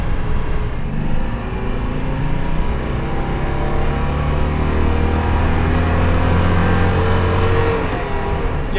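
A Citroen 2CV engine runs steadily up close, a continuous low, throaty rumble with a slight uneven chug and no voices, heard inside the car fitted with Dynamat sound insulation.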